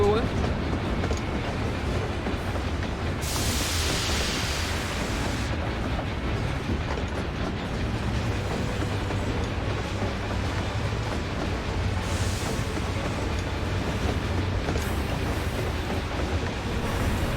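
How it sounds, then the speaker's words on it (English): A train running in Final Fantasy XIV gives a steady rumbling, rolling roar throughout, with brief louder hissing surges, while voices talk over it. "Choo-choo."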